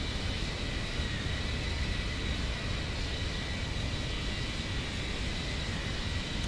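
Boeing 737-800 jet engines in the X-Plane 11 flight simulator, a steady broadband roar with a faint whine, constant and unbroken throughout as the airliner climbs out of Atlanta.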